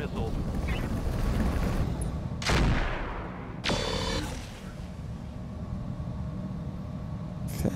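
Short-range missiles launched in the Roguetech mech combat game, several sharp explosive bursts and rushing blasts over a constant rumble of battle noise, fairly loud and close, with voices talking over parts of it.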